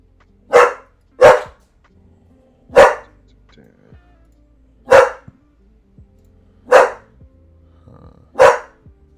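A dog barks six times in separate sharp bursts, close by and fairly loud, with quiet gaps between the barks.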